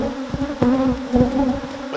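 Agitated honeybees swarm loudly around an open hive, a dense continuous buzz with steady drone and rising, wavering tones as individual bees pass close.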